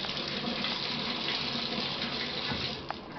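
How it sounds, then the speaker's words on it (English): Hotel shower at a Days Inn and Suites in Garden Grove, California running steadily, a dense even hiss of water spraying and splashing close by for the whole stretch, easing slightly near the end with a small knock. "And in here is the shower."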